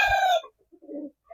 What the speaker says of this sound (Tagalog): Maayos, magandang manok.